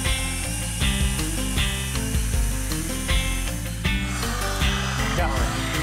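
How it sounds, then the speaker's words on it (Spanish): A wood drill bit with a fine point bores a hole through wood, its whirring, grinding drive rising and falling in short repeated bursts for several seconds, close and fairly loud with no talking. "broca para madera, que tiene ahí una puntita, ya veis, muy fina, que va a penetrar perfectamente en la madera y hacernos un orificio rápido"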